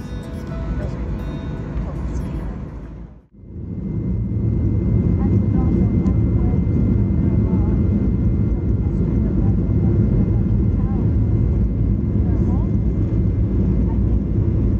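A Delta Airlines jet accelerates for takeoff, its engine roar swelling after a short lull to a loud, steady rumble heard from inside the cabin, with no talk over it.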